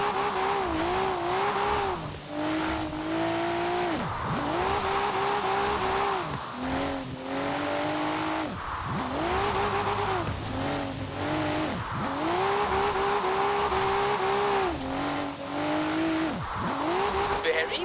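A car drifts in the racing game Forza Horizon 4, its engine droning and rising over and over as the tyres squeal through repeated slides, loud and continuous with a voice talking over it.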